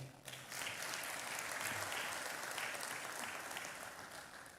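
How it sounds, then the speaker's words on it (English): Warm, sustained audience applause fills a graduation ceremony hall for the Lagos Business School executive programmes, a dense steady wash of many hands clapping that holds evenly and tapers slightly at the end. "With a warm round of applause"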